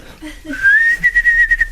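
A person whistles a short melodic tune alone, a clear close tone rising into a sustained note and then breaking into a few rhythmic pulsing phrases.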